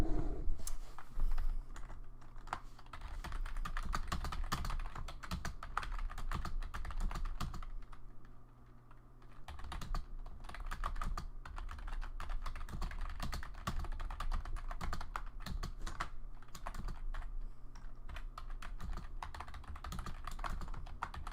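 Steady typing on a computer keyboard, a continuous run of close, moderately loud key taps over about twenty seconds with a brief lull near the middle, and no talk.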